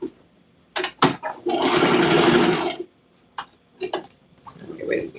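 Home sewing machine stitching a patriotic apron with deep pockets, a sustained whirring run of about a second and a half between short bursts and clicks, fairly close and loud, with no talk.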